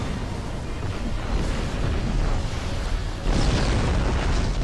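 Gorn ship blowing up in the space game Star Trek Online, a broad rumbling explosion that roars steadily for several seconds and swells again near the end, with no talk.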